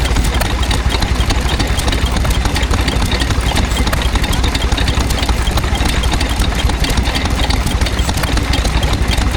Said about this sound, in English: this is a Fairbanks Z type, just here, made in 1924.